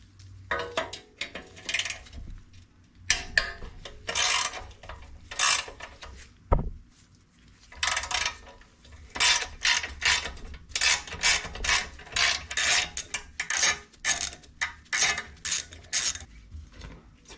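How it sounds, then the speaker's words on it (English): A ratchet works loose the flywheel cover fasteners on an MTD-built OHV horizontal shaft engine, with bursts of rapid clicking strokes separated by pauses and a single sharp knock partway through, close and alone. "I'm gonna have to remove the flywheel cover."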